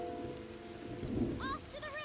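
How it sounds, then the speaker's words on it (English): Thunder rumbles under a steady rainfall in the game Tales of Xillia 2, a low swelling roll midway through, while tonal game sounds and faint voice-like chirps play over the storm. "This thunder's pretty intense, huh?"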